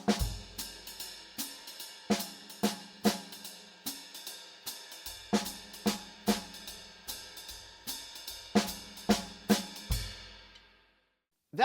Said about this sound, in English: Now you could play it all on the snare drum, and it would sound like this.